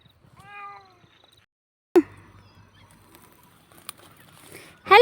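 A cat gives a single clear meow, followed by a few soft thumps and rustles nearby, then another brief cry at the end.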